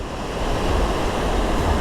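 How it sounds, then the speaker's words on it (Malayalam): A powerful waterfall in Munnar, swollen after rain, roars as one continuous, loud broadband rush of falling water, with no pauses or voices. "ഇത് ചീയപ്പാറിനേക്കാളും കുറച്ചും കൂടി ശക്തിയായിട്ടുള്ള വാട്ടർഫോൾസാണ് കേട്ടോ"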